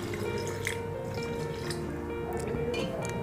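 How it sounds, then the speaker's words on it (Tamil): Water splashes and drips inside a kitchen mixer grinder jar as it is poured in to rinse out leftover masala, soft, close and steady over a few seconds. "இந்த ஜாரை கொஞ்சம் தண்ணி ஊற்றி"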